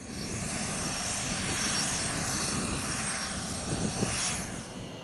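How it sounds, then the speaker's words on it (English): An EA-6B Prowler jet aircraft, powered by two Pratt & Whitney J52 turbojet engines buried in the fuselage, produces a steady, loud, broadband engine roar that holds constant throughout. "The EA-6B receives power from 2 Pratt & Whitney J52P408 turbojet engines buried in the fuselage"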